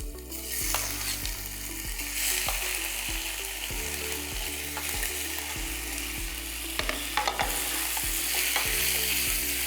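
Muthiya dumplings of bottle gourd tossed into a hot spice tempering in a pan, sizzling steadily throughout with repeated scraping stir strokes knocking in a regular rhythm, close and fairly loud, with no voices.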